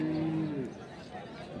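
An Indian Haryana breed bullock at a Noakhali cattle market gives one short, low moo near the start, followed by crowd noise and nearby voices.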